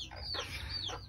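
A brooding hen clucks close by, a few throaty, drawn-out calls separated by short pauses over a faint farmyard background, with no talking.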